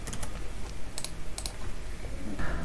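Python code being typed on a computer keyboard, heard as a quick run of close, crisp key clicks in small bursts, with no voice.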